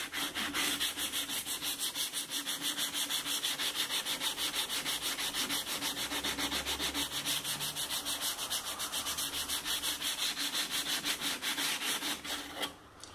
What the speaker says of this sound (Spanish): ahora vamos a lijarle